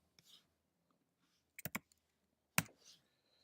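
Short clicky bursts of keys on a computer keyboard as a short command is typed in a quiet room, a few quick taps in two clusters with a louder single keystroke near the end.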